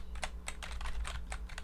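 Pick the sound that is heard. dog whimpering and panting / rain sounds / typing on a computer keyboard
typing on a computer keyboard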